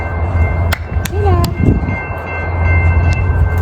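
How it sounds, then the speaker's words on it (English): A train pulls in, a loud, continuous low rumble with brief high squealing tones and clanks over it, heard close as people talk nearby. "Our train's coming, blood."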